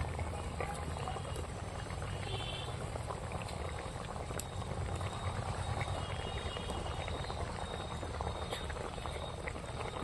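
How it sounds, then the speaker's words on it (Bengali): Egg and pea curry gravy boiling in a pan: a quiet, continuous bubbling and popping simmer, close and faint, with no talking. "ঝালটা আমার ফুটছে"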